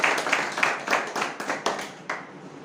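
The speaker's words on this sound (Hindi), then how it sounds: "जोरदार तालियां मोहम्मद सिंह जी के लिए" Loud clapping from a small audience at a business presentation in India, a burst of rhythmic hand claps close to the microphone that tapers off after a couple of seconds.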